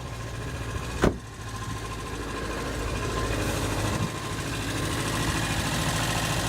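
An Alpine car engine idling steadily just after starting with the choke turned off, a close, even mechanical rumble with a sharp click near the start.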